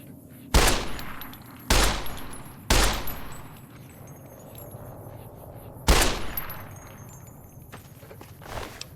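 Four sharp, loud gunshots from a gun in the game Fallout New Vegas, irregularly spaced with short echoing tails, and quieter clinks and movement in the gaps between them.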